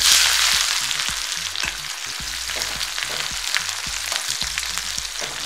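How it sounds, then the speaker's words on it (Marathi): Onion goes into hot oil with cumin and mustard seeds and fries with a loud, steady sizzle up close, broken by stirring scrapes, with no talking. "आता जिरं टाकूया अर्धा चमच, जिरं मोहरी भाजलेत, कांदा टाकूया।"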